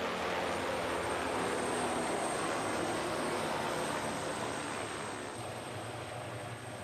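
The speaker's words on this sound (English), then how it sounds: "Within 5 minutes, the helicopter was on the scene." Rescue helicopter arriving at an emergency scene, its engine and rotors making a loud, steady rumbling drone that holds throughout and eases slightly toward the end.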